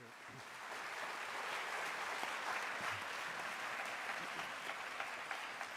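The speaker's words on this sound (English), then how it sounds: "So let's give him a round of applause" An audience at a mayor's state of the city address gives a round of applause, a soft, steady, distant-sounding clapping that holds evenly for several seconds.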